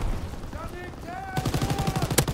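Turret gunfire in the World War II shooter game Call of Duty WWII, a dense run of rapid repeated shots that starts partway through and continues to the end, mixed with game sounds and tonal effects.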